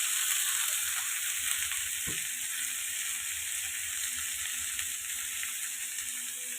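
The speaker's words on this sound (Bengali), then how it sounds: "হালকা ভেজে নিচ্ছি, তারপর ডাল বোনা।" Fish sizzles lightly in hot oil in a pan, a steady close hiss of frying that carries on through the whole stretch, with one small clatter partway through and no one talking.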